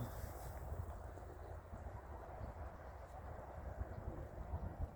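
Steady low rumble of wind buffeting the microphone in a rose garden, constant throughout with no voices.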